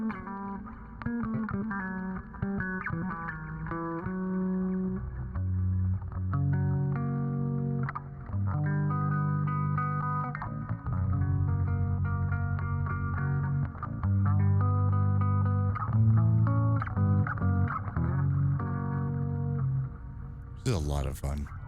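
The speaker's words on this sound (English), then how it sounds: "Like a little bit of delay and a little bit of damn reverb." Effected music plays continuously, with layered tones smeared by delay and reverb into long, echoing tails, loud and dense throughout, ending in a short burst of bright noise.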